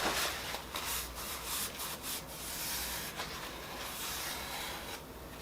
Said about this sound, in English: And again, just going to scrub it a bit.